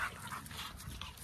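Young puppies whimper and yip during rough play, soft whines and small high yelps overlapping in a brief, close, continuous stretch with scuffling underneath.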